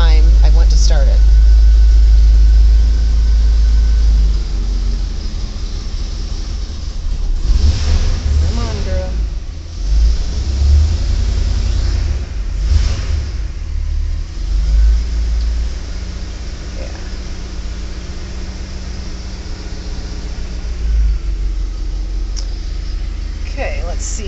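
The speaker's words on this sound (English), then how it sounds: "this car hasn't been started in 2 days, and that's how it's started every single time I went to start it" A 1981 Corvette engine starts and settles into a loud, steady low rumbling idle that runs on throughout, with a person talking over it.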